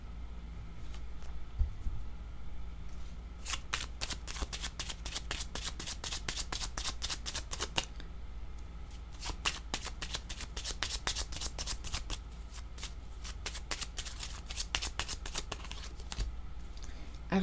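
Tarot cards being shuffled by hand in a fortune-telling reading, a steady run of crisp riffling bursts close to the mic over a low background hum, with no talking.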